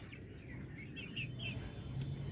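Caged free-range Darag native chickens give faint, scattered chirps and calls over a steady low background hum, with no one speaking.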